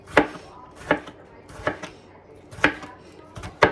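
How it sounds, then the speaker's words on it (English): A knife chops tomatoes into small bite-sized pieces on a cutting board, five sharp, evenly spaced thumps close up with quiet gaps between them. "I just cut the core away and just cut the tomato into small pieces"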